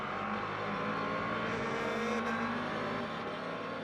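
Race cars at Fuji during an Asian Le Mans Series round, a steady distant engine drone from the track with a slight rise and fall in pitch.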